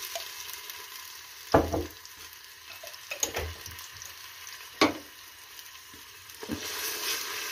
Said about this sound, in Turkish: Salçamızı şöyle bir kavuruyor.